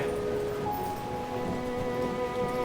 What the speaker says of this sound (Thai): ก็บอกเลยไงว่าฝนตกอ่ะ